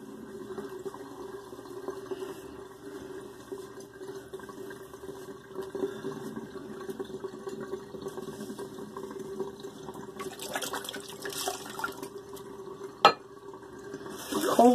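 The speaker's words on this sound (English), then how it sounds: "Put the water out of the sink. Wash my face." Water runs faintly and steadily into a sink for face washing while shaving, with soft splashing and a few close clatters near the end.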